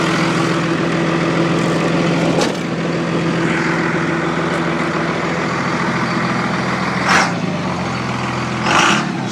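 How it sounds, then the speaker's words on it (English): A 1999 Dodge truck's Cummins diesel engine runs at a steady, loud, close idle with a deep, even clatter, broken by a couple of brief clicks and short revving swells near the end. "when I hear a Cummins diesel engine, it just makes my heart beat faster"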